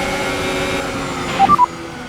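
Garbled team radio interference in a Formula 1 racing game at the French Grand Prix: a steady crackly hiss with warbling tones, then a few short bursts of static near the end.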